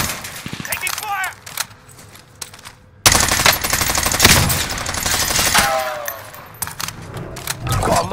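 Gunfire from Call of Duty: Warzone, loud sustained bursts of automatic fire dominating the middle of the stretch, with quieter shots and game effects before and after.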